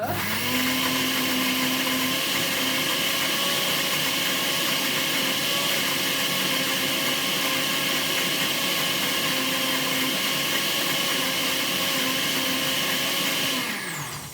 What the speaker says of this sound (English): I'm going to keep to the rule of only blending for a minute or so.